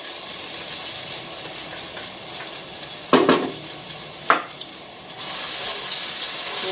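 Ingredients for an alkaline chowder sizzle steadily in hot oil in a pot, a continuous close frying hiss broken by a couple of sharp bursts as food is stirred or added.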